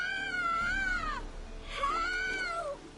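Two drawn-out, child-like wailing cries rise and fall in The Witcher 3, each lasting about a second with a short pause between, clear against a quiet outdoor game ambience.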